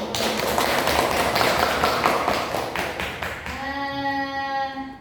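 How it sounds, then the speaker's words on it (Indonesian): A classroom crowd claps together in a dense burst of applause that fades after a few seconds, and a sustained tone takes over at the end. "Tepuk tangan untuk"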